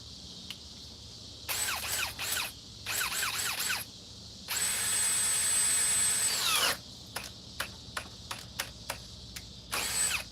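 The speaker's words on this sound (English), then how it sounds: "Put it in drill mode with the edge battery." A cordless drill in drill mode whirs in short bursts and one longer sustained run, with quick trigger pulses near the end, loud and close.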